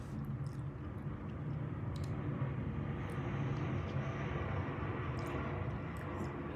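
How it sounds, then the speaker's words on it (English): A low, steady rumble of an airplane droning overhead at night, constant and moderately loud throughout with no voices. "So that plane sound at night, it's actually pretty cool."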